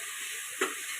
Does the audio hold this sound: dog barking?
no